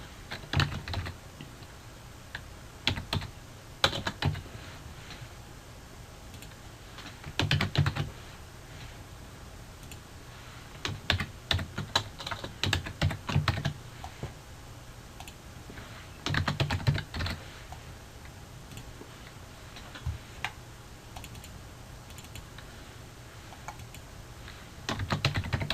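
Bursts of rapid typing on a computer keyboard while working in PowerPoint SmartArt, clicking keys coming in short clusters separated by quieter pauses, close and clear with no voices.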